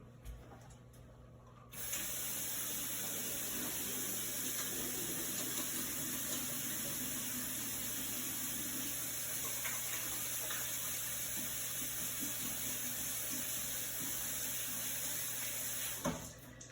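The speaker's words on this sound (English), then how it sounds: "I'm gonna get my hand to rinse so I'm not getting everything all oily." Tap water runs steadily into a kitchen sink as oily, grease-coated hands are rinsed while baking a cake, a continuous near hiss starting after a short pause and stopping near the end.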